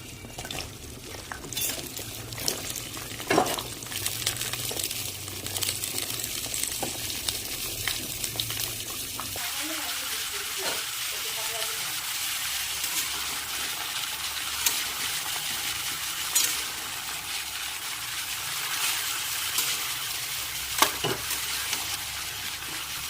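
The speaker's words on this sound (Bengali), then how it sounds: "সবজিটা একটু কষতে দিতে হবে।" Vegetables frying in a pan for khichuri, stirred as they cook: a steady sizzle running throughout, with scraping and stirring noises layered over it and occasional clinks, close and moderately loud, with no voices.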